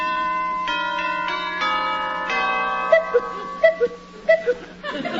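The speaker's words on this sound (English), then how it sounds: "I guess I'll ring the bell." A 1940s radio comedy doorbell chimes a melodic sequence of sustained bell tones at a wealthy house's front door, followed by several sharp struck notes and brief chuckles from the audience.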